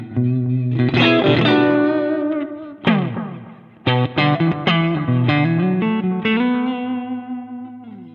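Electric guitar played through an amp modeler with the low mids boosted, giving thick, distorted chords and sustained notes with a few brief gaps and restarts, loud and close, without talk.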